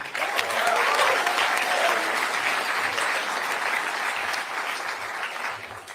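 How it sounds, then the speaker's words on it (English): Sustained audience applause at a youth rally in Toronto, a dense, loud wash of many hands clapping that holds steady for several seconds before starting to taper off at the end. "Everyone give a big round of applause and a warm welcome to Ben Cochran."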